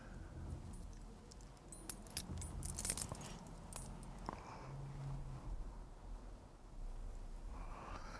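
Newly cut metal keys handled close up, giving scattered jangles and light metallic clinks, quiet and irregular over several seconds with no talk.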